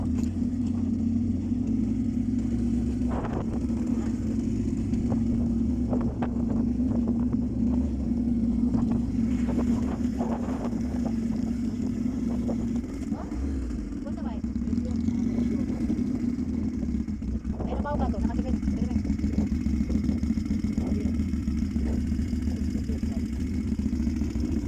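A motorcycle hums along a village hilltop road, its engine droning steadily and close with a low rumble and slight shifts in pitch, while a rider's voice talks over it.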